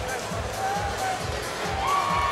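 Crowd noise at a Georgia MMA fight as a fighter holds up a Marine Corps flag, a steady mass of cheering and applause from the arena audience with a faint whistle rising near the end.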